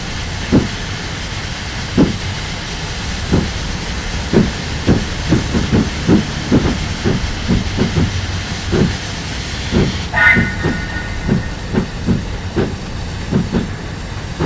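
A train pulling out of a station on New Zealand's North Island Main Trunk railway, with steady rhythmic clickety-clack of wheels over rail joints beneath a constant hiss, and a brief higher whistle-like tone partway through.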